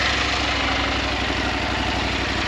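A Husqvarna Norden 901 Expedition motorcycle engine idles steadily and fairly quietly after starting, a close, even low rumble with constant mechanical hum and no speech.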